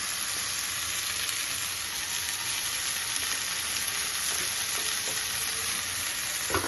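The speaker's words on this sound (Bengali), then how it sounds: "এখন একটু নাড়াচাড়া করবো ধনে পাতা দিয়ে।" Coriander leaves stirred with onion and garlic in a frying pan, a steady close sizzle running throughout with soft scraping from the stirring and no talk.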